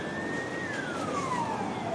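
An ambulance siren wails on a hot, crowded summer park street, a single falling tone sweeping down steadily at moderate distance over a constant crowd and traffic murmur.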